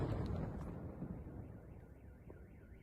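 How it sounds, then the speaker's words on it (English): A car alarm wails faintly in the distance after an explosion in a war-hit area, its rising and falling siren tone cycling repeatedly over low rumbling wind noise. "The famous car alarm."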